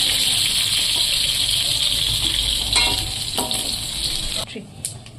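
Soya chunks frying in hot oil in a kadai, a steady loud sizzle that runs continuously, with a few clinks of stirring and a sharp drop in the sizzle near the end as the pieces are lifted out.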